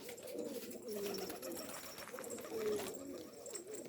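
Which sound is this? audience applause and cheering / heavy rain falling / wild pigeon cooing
wild pigeon cooing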